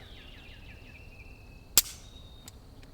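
A single sharp crack of gunfire from a Rossi Gallery Gun pump-action rifle outdoors, followed by a couple of faint distant echoes or pings, with birdsong in the background.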